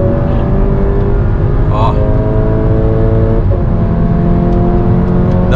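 A modified Volkswagen Fusca with a TSI engine over 300 hp and a Magnaflow exhaust accelerates hard on the road, its loud engine droning steadily from inside the car while someone speaks briefly.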